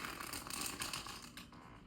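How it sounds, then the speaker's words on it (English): Tarot cards shuffled by hand in a close, continuous run of crisp riffling and flicking for about two seconds, fading slightly toward the end, with no voices. "Ooh, that was one of my favorite shuffles ever."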